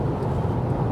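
Inside a Hyundai Santa Fe cruising at 120 km/h on a German autobahn, road and wind noise form a steady, even, low rumble with no speech.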